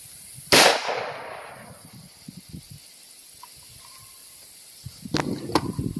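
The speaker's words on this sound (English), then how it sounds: "I'm shooting freehand, so this ain't going to probably be perfect." A single sharp AR-15 rifle shot cracks loudly and close during a deer bullet test outdoors, its report trailing off, followed by quiet ambience and a few faint handling clicks.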